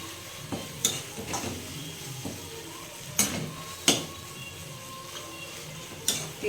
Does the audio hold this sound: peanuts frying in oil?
yes